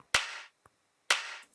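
Two electronic clap hits, each followed by a short roomy reverb tail, about a second apart with a faint tick between them.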